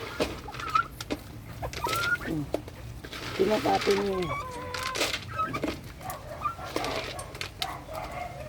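Turkey gobbling and clucking among other poultry, with someone talking over the birds throughout.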